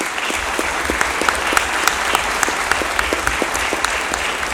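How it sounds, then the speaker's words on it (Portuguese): An audience at a tribute ceremony claps steadily in dense, even applause, with a few sharper individual claps standing out near the front. "pedir uma salva de palmas a essas pessoas"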